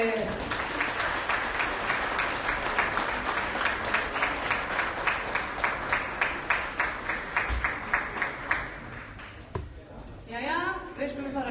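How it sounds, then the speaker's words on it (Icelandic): An audience at an Icelandic darts championship applauds world champion Vilborg Björnsdóttir, fast crowd clapping that turns into a rhythmic, even beat before fading. Speech follows near the end. "Fyrst ætla ég að biðja fólk að klappa fyrir heimsmeistara Íslands í fatlaða, Vilborgu Björnsdóttur."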